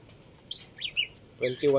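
Lovebirds give a few sharp, high squawking calls in short bursts, close by, followed by a louder harsher call with lower tones.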